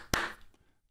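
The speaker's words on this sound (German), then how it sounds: "ich klatsche auch nochmal." A single sharp hand clap, close and fairly loud, fading quickly into silence.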